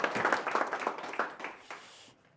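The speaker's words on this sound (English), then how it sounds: "if you could all give a big round of applause for Hans." Audience applause at a tech talk at Vandebron welcoming speaker Hans Bol, a short burst of scattered hand claps from a modest crowd that thins out and stops after about two seconds.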